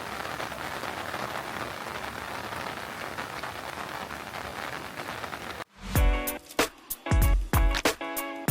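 Rain falling steadily on a walk among rice fields and waterfalls in Bali, a dense close hiss lasting over five seconds before giving way to louder, sharper clattering bursts.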